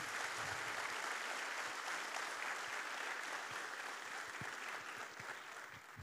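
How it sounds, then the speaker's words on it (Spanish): Sustained audience applause in a university auditorium during a symposium, a dense, even wash of clapping that holds steady for six seconds and eases slightly toward the end. "Yo quiero pedir un aplauso para esta mujer."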